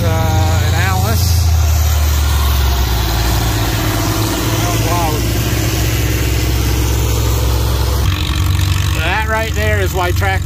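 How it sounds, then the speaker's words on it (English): An 806 International tractor pulling a plow at a field demonstration gives a steady, loud low engine drone throughout, with people talking over it. "806 International pulling a deer plow"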